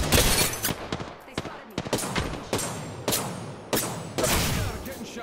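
Gunfire in the Apex Legends battle royale game, with repeated sharp bursts and single loud shots at irregular intervals, close and punchy, and a voice talking faintly in between.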